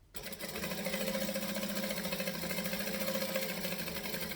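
A sewing machine runs a continuous fast stitching backstitch, steady and fairly close, with no talking.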